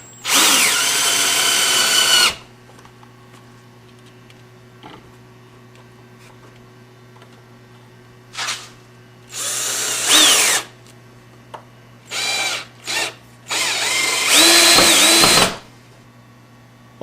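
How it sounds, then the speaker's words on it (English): A power drill drives wood screws to mount a solar charge controller onto a shelving frame, giving several loud whirring bursts of varying length separated by quiet pauses, with no one talking. "Now we'll mount the second one the same way, using a couple wood screws in our drill."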